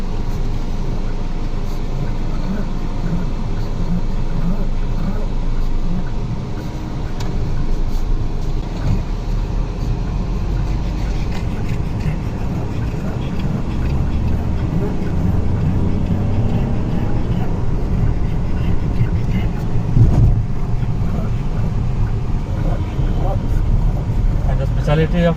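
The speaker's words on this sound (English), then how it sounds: "This is how car turns." A Hyundai Xcent car turning on the road, giving a steady low engine and road rumble from inside the cabin for the whole stretch, with no voices.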